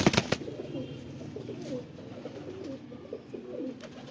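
Rare breed pigeons coo nearby in soft, repeated rolling calls, with a few sharp clattering knocks at the start and faint rustling behind them.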